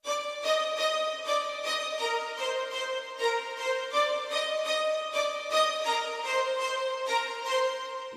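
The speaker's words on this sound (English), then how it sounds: "a staccato layer, which is just playing the top notes" A staccato string layer plucks out the top notes of a chord progression in short, bright repeated strokes, washed in smooth vintage-style reverb, playing steadily with no voices.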